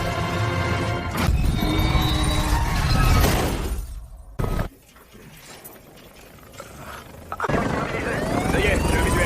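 Helicopter in a video game, its rotor chop and engine roar mixed with crashes and shattering impacts, loud and busy, dropping out briefly midway before returning; game voices talk over it.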